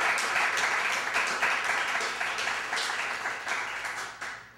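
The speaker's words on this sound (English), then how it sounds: "Let's give this sister a great round of applause." An audience at a branch library poetry reading applauds a poet, a thick sustained patter of many hands that stays strong and then tapers slightly toward the end.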